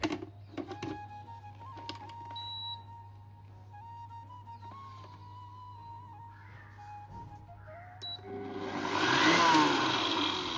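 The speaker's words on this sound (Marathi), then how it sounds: "जेव्हा आपण वरून हे भांडं त्यामध्ये परफेक्ट फिट करतो ना, त्यानंतरच हा ब्लेंडर ऑन होतो" A kitchen mixer-blender with smart, pulse and power blend modes, its jar fitted on top, gives a few quiet clicks and beeps before the motor suddenly whirs up loud and close near the end.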